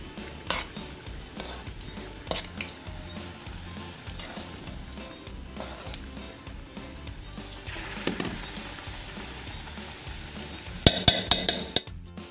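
Kat vada sizzle steadily in hot oil in a pan, a soft continuous bubbling with occasional clinks of a utensil against the pan and a few sharper metallic taps near the end.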